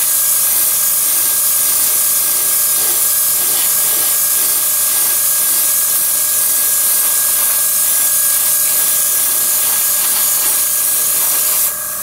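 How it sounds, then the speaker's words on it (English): Steady airbrush spray misting paint color over a scale model for preshading, a loud, continuous airy hiss holding level for about twelve seconds and cutting off abruptly at the end, with no talking. "you just mist the color on. until you get complete coverage."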